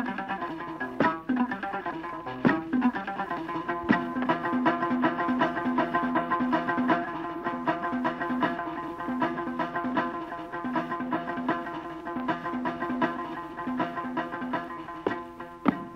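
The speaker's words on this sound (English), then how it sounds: "The tidinet, which appears to be reserved for men, is a four-string lute" A Mauritanian griot plays the tidinet, a Moorish four-string lute with a skin-covered wooden body and stick neck, giving bright plucked repeating notes in a steady rhythmic pattern, alone and moderately loud.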